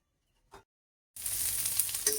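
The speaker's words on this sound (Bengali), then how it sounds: "আমি এখন মাকে পেঁয়াজটা ভেজে দিচ্ছি" Onions fry in a pan on a gas stove, with a sudden loud, steady crackling sizzle that starts after near silence and one brief soft knock, continuing close and bright to the end.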